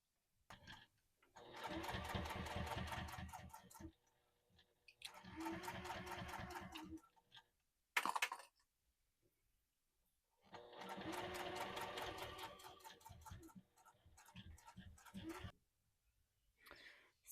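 Sewing machine top stitching a leather wallet, running in three long steady bursts of rapid even stitching separated by pauses, with a short clunk near the middle and a brief final burst at the end.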